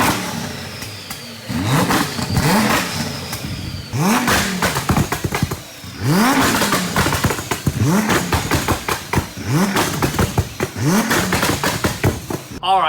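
A 1200HP twin-turbo Audi R8 with a flame tune revs repeatedly up close, each sharp rise in pitch falling back with crackling pops, about five loud rev cycles in a row.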